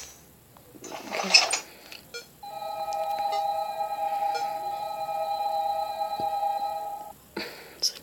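A telephone ringing in the horror video game Five Nights at Candy's 2: a steady electronic tone holds for several seconds after a few clicks, then cuts off, set against a quiet, dark background with a brief noise burst at the end.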